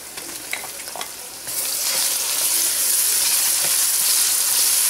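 Finely chopped tomatoes dropped into frying onions for a cauliflower and potato sabzi, quieter stirring taps giving way to a sudden louder, sustained hissing sizzle, close up with no talk.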